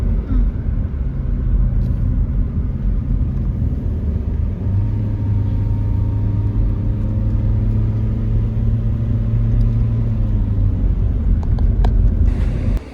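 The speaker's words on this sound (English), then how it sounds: "So we're driving along the road here." A car drives along a road in Chiang Mai, Thailand, heard from inside as a loud, steady low rumble of engine and tyres that continues unbroken for the whole stretch.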